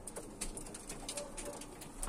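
Old-lineage Turkish flying pigeons coo softly inside a coop, making faint, repeated low murmurs against a quiet background.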